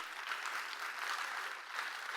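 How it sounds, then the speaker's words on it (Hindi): Audience applause at a talk on Sanatan research, a dense steady wash of many hands clapping together, fairly distant and even in level throughout. "मुझे लगता है जोर से हमने ताली तो बजानी ही चाहिए।"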